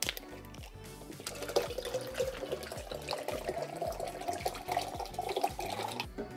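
Water is poured into a coffee machine, a continuous close gurgling trickle with splashy bursts that stays fairly quiet and unbroken throughout, with no voices.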